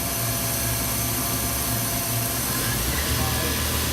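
Spindle of a 1995 Fadal VMC4020HT CNC vertical mill running at 2,000 RPM, heard as a loud, steady, close mechanical drone and hum holding even throughout with no pauses.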